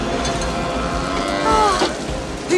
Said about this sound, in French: Une autre vache!